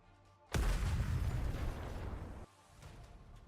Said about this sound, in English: A loud explosion rings out near the walls of the lift, followed by clouds of smoke.